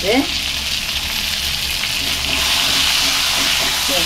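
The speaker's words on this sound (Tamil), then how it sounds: "ஒரு கெட்டு கருவேப்பிலை ஒரு பிடி கொத்தமல்லி எல்லாமே சேர்த்து நல்லா வதக்கிக்கலாம்" Curry leaves and a handful of coriander sauté in a pan for chutney, making a loud, continuous hissing sizzle that stays close and even throughout.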